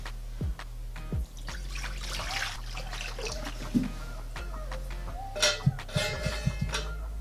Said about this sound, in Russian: Наливаем в казан воду.